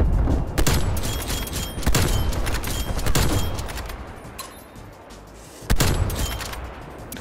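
Bursts of M16 rifle fire in a multiplayer shooter video game, several loud rapid volleys with gaps between them, one sharp burst returning near the end against a busy background.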